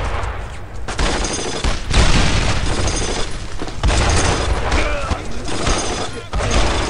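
Continuous loud bursts of gunfire and explosions from the World War II video game Brothers in Arms: Road to Hill 30 crackle densely throughout, with shouting voices mixed into the battle noise.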